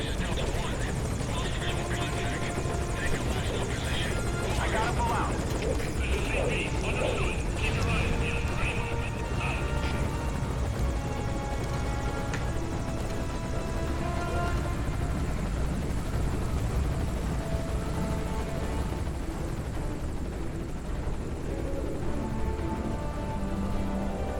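Helicopter in Metal Gear Solid V: Ground Zeroes, a steady loud rotor drone and engine hum running throughout, with a voice talking over it.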